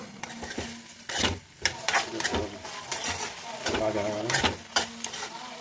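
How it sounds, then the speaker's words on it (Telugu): Stuffed white eggplants fry in oil for an Andhra-style brinjal dish, giving a steady close sizzle broken by repeated scraping stir strokes. "బాగా వేగాలండి నూనెలో."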